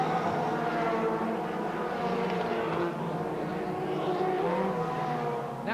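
Superstox race cars roar around the oval at Ipswich, engines revving and droning loudly together, with a commentator talking over the noise.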